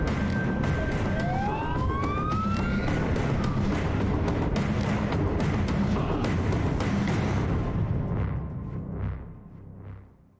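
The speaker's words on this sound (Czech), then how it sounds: "Hasiči spustili výstražné majáky" Fire engine warning sirens wailing in a rising and falling pattern at moderate distance, sounding steadily before fading out toward the end.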